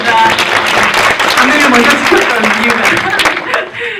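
A packed cinema audience claps throughout a post-screening guest talk for the film 'Eyes' (눈동자). The applause is a sustained, dense patter that runs under a speaking voice.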